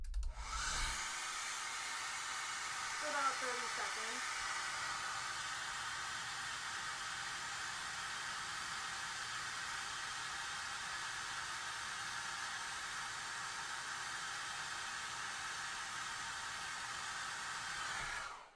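A hair dryer roars steadily and loudly for the whole stretch, a constant broadband whoosh with a brief voice near the start.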